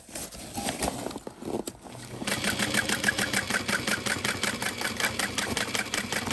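A sewing machine runs steadily, stitching a seam around the top of a layered tote bag; after a short start-and-stop burst it settles into a continuous, fast, even whir.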